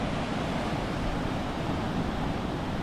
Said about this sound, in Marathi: इकडे बघा लाटा येत आहेत